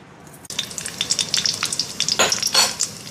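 Urad dal, mustard seeds and cumin hitting hot oil for a spinach fry tempering, a sudden burst of sizzling that crackles and pops in quick uneven bursts, close and lively, no voices.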